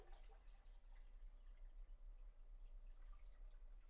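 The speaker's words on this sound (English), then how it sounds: "I'm going to go ahead and pour off about 4 cups of our water." Water is poured into a pot for a gallon batch of jalapeno wine, heard as a faint, steady trickle with small dripping splashes.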